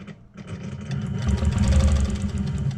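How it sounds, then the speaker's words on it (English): A sewing machine stitches in a rapid, steady mechanical rhythm, skipping stitches because of an old needle; the motor starts up quietly and builds, heard close and alone. "And yes, I know my machine is skipping."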